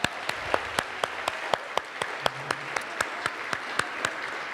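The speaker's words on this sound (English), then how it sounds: "So let's practice a big round of applause for those organizations and individuals." Steady audience applause at an awards ceremony, a continuous wash of clapping with regular sharper claps standing out, moderately loud and without speech.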